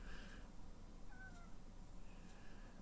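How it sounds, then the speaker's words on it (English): A house cat gives a couple of faint, drawn-out meows in a quiet room, heard at low volume. "If you hear a cat meowing, it's my roommate's cat."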